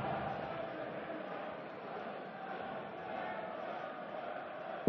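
A darts arena crowd at a German Darts Grand Prix match produces a steady, distant murmur of many voices, low and continuous throughout.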